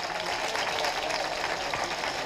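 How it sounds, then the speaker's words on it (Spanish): Steady applause fills a community gathering marking the 50th anniversary of the Fontanilla neighbourhood, cheering a local sportswoman, with a dense, continuous wash of clapping throughout. "Aplauso fuerte para esta gran deportista."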